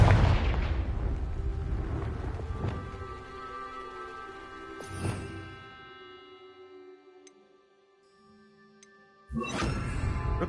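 The Confringo fire spell in the video game Hogwarts Legacy blasts with booming explosive hits, one loud impact at the start, fainter blasts spaced after it and another loud burst near the end, with ringing tails between them.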